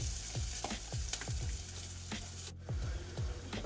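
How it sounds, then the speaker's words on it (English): Onion and ginger fry in a pan with a steady close sizzle, broken by repeated scrape-like stirring strokes, with no talk. "Now I'm just gonna put the onion and ginger in. Cook until fragrant."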